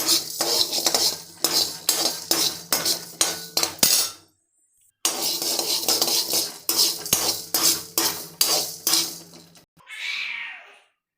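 A utensil scrapes and clinks against a pan in quick, steady strokes while roasting spices, pauses briefly, then resumes stirring for several more seconds.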